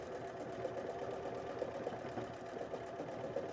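A Bernette b38 sewing machine runs at speed on decorative stitches, giving a fast, even mechanical whir with a rapid needle chatter that stays steady and close.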